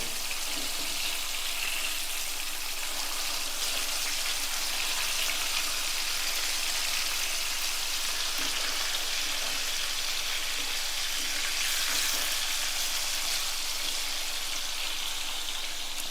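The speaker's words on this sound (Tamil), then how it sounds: "நம்ம மீனை இப்போ எண்ணெயில் சேர்த்து 2 நிமிஷம் ஆகிடுச்சு." Fish frying in hot oil for a Tamil-style fish gravy gives a steady, dense sizzle and crackle that runs evenly throughout, with no talking.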